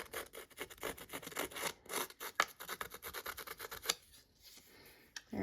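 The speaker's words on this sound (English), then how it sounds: "I'm just gonna rough up these edges just a little." Paper edges are roughed up with scissors or fingernails, a quiet, close rasping and rubbing in quick irregular strokes, scratchy bursts coming one after another with a few short pauses.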